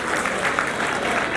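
Students clapping together at an Urdu department event on a university campus, a dense, steady burst of applause filling the whole moment with no pauses.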